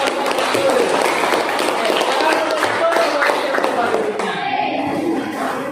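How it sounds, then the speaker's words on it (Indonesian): Scattered applause from a group in a classroom, mixed with voices talking over it. "silakan kasih tepuk tangan dulu untuk"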